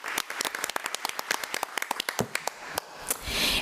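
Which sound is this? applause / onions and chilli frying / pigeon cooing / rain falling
applause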